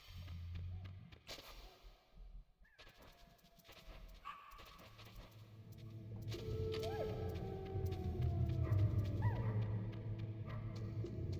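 Guard dogs bark in the stealth video game Metal Gear Solid, a few short yips and barks layered over a steady bed of game ambience and music that swells toward the end.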